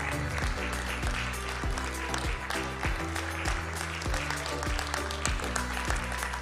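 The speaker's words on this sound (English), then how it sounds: "While clapping, the videographer asks you," Audience applause at an Indonesia–Latin America and the Caribbean business forum, steady and sustained throughout, with music playing underneath.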